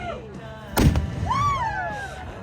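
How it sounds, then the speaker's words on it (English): A loaded cannon goes off with a single loud, close boom followed by a rumbling tail, while people's voices are heard around it. "we still got a loaded gun over here. Let's shoot that thing."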